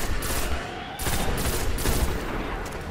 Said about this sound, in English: I'm shooting the spawning people.